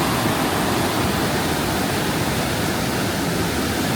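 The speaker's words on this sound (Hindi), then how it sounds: "बहाव देखो कितना तेज है, और पानी देखो बिल्कुल साफ, बिल्कुल वाइट, प्योर वाइट, बिल्कुल प्योर वाइट।" Fast-flowing, clear mountain stream at Yamunotri, a steady broadband rush of water that fills the whole span without pause, close and fairly loud.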